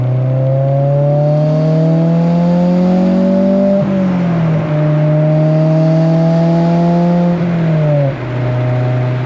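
Honda Civic engine running rough with a lost cylinder and no VTEC, loud close droning hum with wavering pitch that sags and recovers in uneven lurches, no talk.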